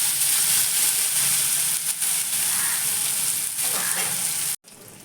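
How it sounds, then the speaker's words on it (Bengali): Bitter gourd slices sizzle in hot oil in a small pan, a bright continuous crackle with occasional stirring scrapes, up close, before cutting out abruptly near the end. "করলা ভাজা কমপ্লিট"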